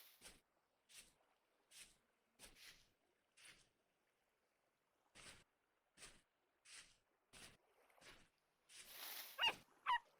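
Puppy yips and whimpers in Vintage Story, a series of short, faint, evenly spaced cries over near silence, followed at the end by a louder burst of noise.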